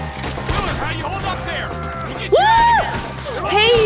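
Gunfire in the Red Dead Redemption 2 video game: a few loud in-game gunshots among game music and effects, with someone talking excitedly over the action.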